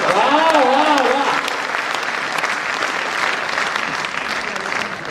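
An audience applauds steadily at a Hindi satirical poetry recital by a poet, with a brief voice over the opening second before dense, even clapping carries on alone.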